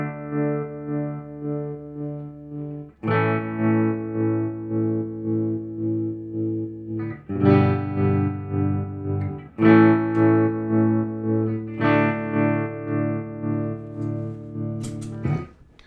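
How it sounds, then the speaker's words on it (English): Electric guitar played through a tremolo effect pedal after a GHS Kodiak pedal: sustained distorted chords pulsing in a steady wavering rhythm, changing chord every few seconds, loud and alone. "I'm gonna step on the GHS Kodiak first this time, and let's get some tremolo."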